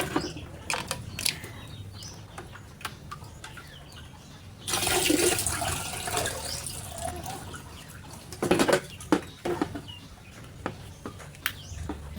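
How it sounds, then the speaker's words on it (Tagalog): Water is poured into a homemade chicken waterer on a small farm, a splashing, trickling pour that swells midway, with faint clicks and knocks and bird sounds in the background. "So ayan, lagyan natin ng tubig."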